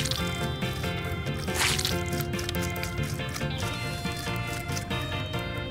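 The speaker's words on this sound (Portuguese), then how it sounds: "cortar na metade e usar isso aqui para espremer todo o suco" Wet squishing and dripping as lemon halves are pressed on a juicer for lemonade, steady close juicy squeezing sounds under a bed of cheerful background music.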